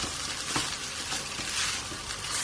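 Mint fried rice is stirred in a hot pan, a dense continuous sizzle with soft scraping, loud and close, with no voices.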